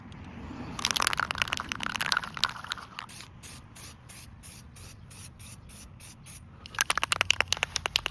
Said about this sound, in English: I'm just gonna spray them with this chalkboard Rust-Oleum gray primer.